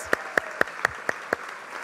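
An audience at a community foundation's 50th anniversary celebration claps in a sparse, slow rhythm, about six distinct claps spaced evenly, fairly close and moderately loud with no voices.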